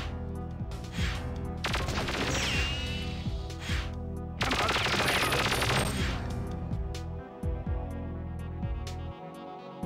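Automatic gunfire from the shooter Perfect Dark, in loud sustained bursts over a dense game soundtrack, with a short lull between the two heaviest volleys.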